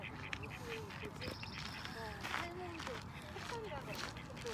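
Ducks in a public park in Surrey quacking repeatedly in short calls, fairly close, over outdoor background noise.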